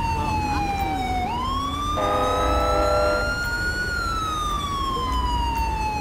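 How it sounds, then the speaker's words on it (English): Police siren in the GTA 5 LSPDFR game, a loud wailing tone that sweeps slowly up and down and continues throughout, briefly overlaid by a rapid yelp-like burst in the middle over steady vehicle rumble. "Got to shut off my siren, too."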